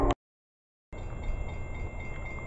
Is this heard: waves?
no